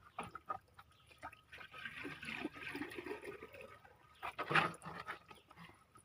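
Engine oil is poured during an oil service: a soft, uneven trickle of liquid over a noisy background, swelling into a louder gush near the end.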